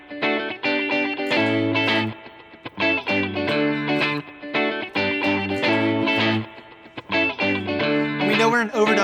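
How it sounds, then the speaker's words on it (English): A looping guitar riff on a Line 6 HX Stomp XL repeats with an overdubbed low bass line layered underneath, steady rhythm, fairly loud with effects-laden tone. "Now, if you wanted to add like a bass line,"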